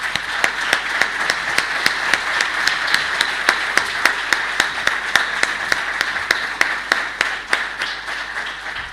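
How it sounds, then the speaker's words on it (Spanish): Audience applause thanking young presenters at a talk on biodigestion and energy, a steady wash of clapping with one nearby pair of hands beating a clear, regular rhythm throughout. "agradecer a los chicos con un aplauso"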